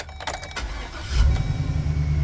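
Camper van engine with a repaired exhaust cranking and starting, then settling into a low, steady idle close by, with no speech.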